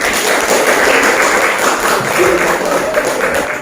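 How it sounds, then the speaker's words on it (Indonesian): A classroom full of people clapping steadily and loudly, a dense, continuous patter of applause with no break. "Kasih dulu tepuk tangan teman-teman"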